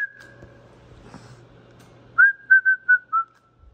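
A person whistles a sustained high note, then a short run of four or five quick, clear whistled pulses, close and loud against a faint electrical hum from a tube-based linear amplifier setup.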